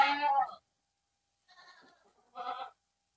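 A goat bleats three times, a loud nearby cry followed by two softer wavering calls after short pauses, with silence in between.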